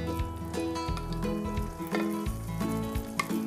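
Meat pieces searing in a hot pot, a continuous crackling sizzle with spattering pops, close up, alongside a steady low hum and some tonal background sounds.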